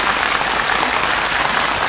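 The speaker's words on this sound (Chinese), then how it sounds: "来，掌声欢迎3位，请坐。" A studio audience claps warmly to welcome three young Yue opera performers from the Shanghai Yue Opera House onto a talk-show stage; dense, steady applause fills the whole stretch at close range.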